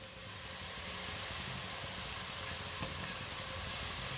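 Crushed garlic hits lightly browned onions in a hot pan, giving a soft, steady sizzle that holds evenly for a few seconds with no talking.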